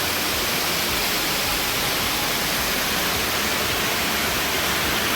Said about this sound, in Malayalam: അതിനു മുമ്പ് ഒരു വെള്ളച്ചാട്ടമുണ്ട് ആ വെള്ളച്ചാട്ടത്തിൻ്റെ വൈബ് നമുക്കൊന്ന് ആസ്വദിക്കാം